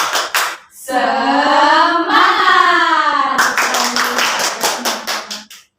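A group of children in a school group-guidance session does the rhythmic "tepuk semangat" spirit clap: a few sharp claps, then voices chanting in unison, then a steady run of close, crisp claps under the continuing chant.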